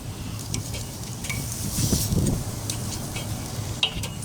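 Thick-cut pork chops, smoked and cooked sous vide, sizzle steadily on a hot surface after being flipped, a continuous crackle punctuated by a few soft metallic clinks of utensils.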